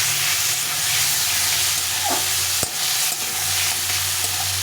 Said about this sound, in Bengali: এই আলুটার সঙ্গে মশলাটাকে কষিয়ে নিলাম